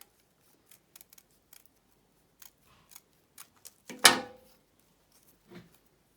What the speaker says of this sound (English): I'm going to cut it out quite carefully.